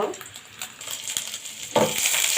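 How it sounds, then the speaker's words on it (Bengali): Onion and garlic frying in a pan, a close sizzle broken by several spatula scrapes and stirs, swelling louder near the end, with no talking. "পেঁয়াজ রসুনগুলো ভেজে নেব"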